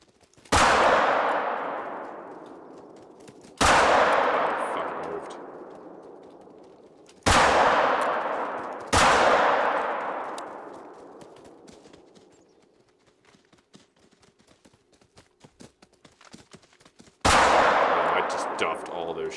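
Five sharp rifle gunshots ring out in the hunting game Call of the Wild, each a loud crack followed by a long decaying echo, fired at irregular intervals with quiet gaps between.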